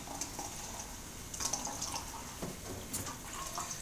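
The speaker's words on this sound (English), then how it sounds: "Same thing, open up and close the tap a few times." Beer tap on a home beer line being opened and closed repeatedly while the lines are flushed with water, giving a steady close hiss of running liquid with brief splashy bursts at each opening.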